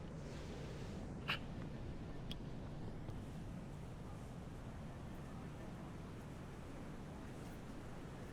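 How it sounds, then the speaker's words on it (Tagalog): Sea waves roll in at Tanah Lot temple on the Bali coast, a steady low roar of surf and wind with a couple of brief sharp knocks early on. "Pero ayun, lalaki ng alon."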